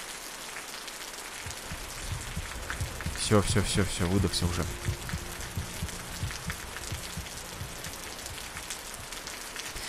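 Continuous rainfall in the video game Osiris: New Dawn, an even hiss of drops running throughout, with someone briefly talking over it early on.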